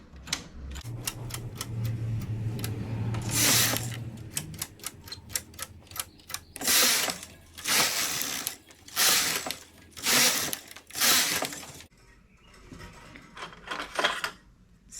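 A knitting machine carriage on tension setting 7 slides back and forth across the bed, knitting the first rows as a series of loud, rhythmic mechanical rasps and clicks, each pass a distinct burst followed by a brief pause.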